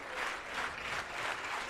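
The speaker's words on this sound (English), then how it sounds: "Juab crowd trying to get a clap going" Crowd at a high school championship baseball game, Juab versus Canyon View, clapping steadily in a rhythmic, even pulse, faint and distant, heard briefly and without talk.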